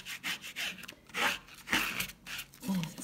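Scraping down a die-cut paper piece, a faint, close series of rhythmic rubbing strokes, each a short dry rasp, repeated with brief gaps.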